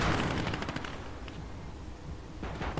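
Machine-gun fire in the real-time strategy game Gates of Hell: Liberation during an American campaign battle, with steady rattling bursts that open and close the clip over continuous background battle noise.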